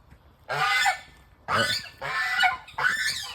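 Caged geese on a farm honk loudly in four harsh, raspy bursts separated by short pauses, close by with no talking.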